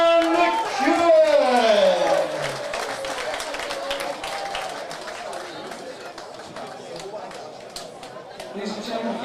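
A crowd at a boxing club home show applauds and chatters after a knockout win, a steady wash of clapping under an announcer's voice and crowd noise.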